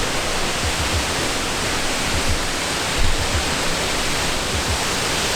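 A Washington waterfall roars as a dense, steady broadband rush, loud and close, with faint low rumbling pulses and no voices.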